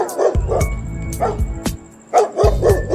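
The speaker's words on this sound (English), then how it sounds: "for dog." A small dog barks and yips in quick bursts, close by, with brief pauses between the sharp calls.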